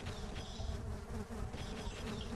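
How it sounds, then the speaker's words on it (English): Angry bees buzzing in a video game, a dense, loud, continuous swarm drone that fills the whole moment with no speech. "I just hear the bees, they're so angry."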